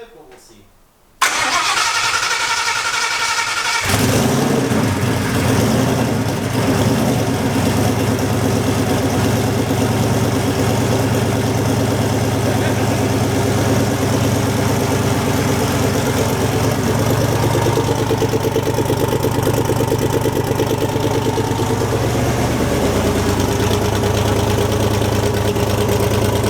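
A car engine cold-starts with a sharp crank and catch after a brief quiet moment, then settles into a loud, steady idle close by for the rest of the clip while people talk nearby.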